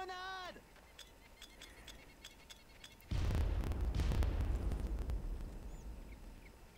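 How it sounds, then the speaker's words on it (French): A grenade goes off in the video game Far Cry, a sudden loud rumbling blast followed by a few seconds of crackling debris and echo that slowly fades, preceded by quieter game sounds. "Grenade!"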